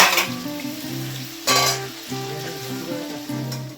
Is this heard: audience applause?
no